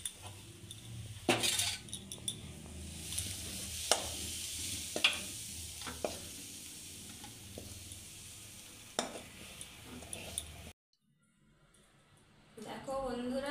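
Semolina being stirred and roasted in a pan, with a spoon scraping and clinking against the metal over a low, steady sizzle. The cooking sound cuts off near the end, followed by a brief voice.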